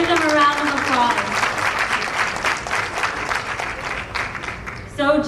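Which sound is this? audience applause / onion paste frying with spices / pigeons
audience applause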